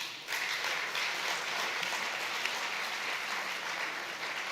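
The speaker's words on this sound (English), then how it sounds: "give the Almighty God a round of applause" A crowd at a banking and finance event gives a steady round of applause, a dense even wash of clapping from many hands that holds for several seconds at moderate distance.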